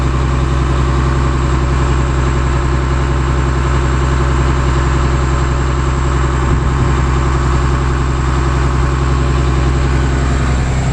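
The Cummins ISC 8.3-liter turbo diesel in a 2003 Blue Bird All American 81-passenger school bus idles loudly and close by with a steady, deep rumble that barely changes.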